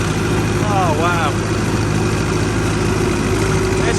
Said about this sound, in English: It's a great old tractor, this one, it really is.